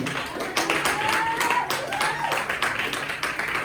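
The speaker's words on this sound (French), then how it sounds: "Applaudissez pour Jésus." A church congregation applauds together, a dense, fairly loud wash of many hands clapping that rises and holds steady throughout.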